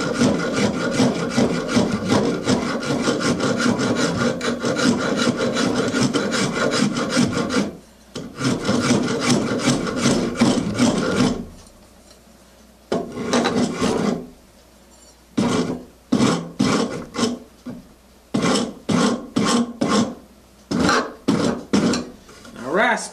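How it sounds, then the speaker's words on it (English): A rasp files a wooden leg for a tilt-top pedestal table, long steady grinding strokes at first, then shorter separated rasping bursts with brief pauses between them. "Now rasp the top edge of this leg."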